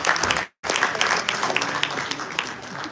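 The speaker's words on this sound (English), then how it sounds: "Huge round of applause." Loud audience applause fills the clip, breaking off briefly near the start before resuming as sustained, dense clapping.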